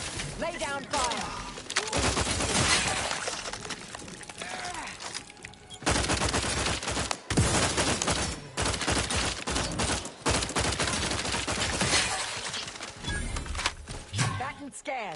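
Sustained bursts of rapid gunfire rattle almost without pause through a firefight in The Outer Worlds 2, several weapons overlapping with brief gaps and a short lull near the middle, while voices call out over the shooting.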